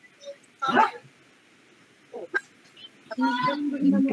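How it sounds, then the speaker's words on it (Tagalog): A few scattered dog barks ring out at a distance, with a brief yelp in the middle and a longer bark-like burst near the end. "maingay talaga ang mga aso."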